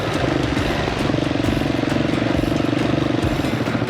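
A motorcycle engine runs steadily at close range on a scenic adventure ride, a loud, even mechanical drone with a rhythmic low pulse that holds throughout without a break.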